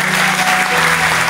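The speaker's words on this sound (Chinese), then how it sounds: "掌声响起，" Wedding guests applaud as the bride enters with her father, a loud, dense wash of clapping filling the hall throughout, close and steady.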